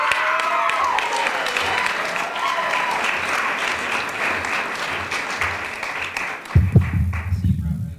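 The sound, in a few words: applause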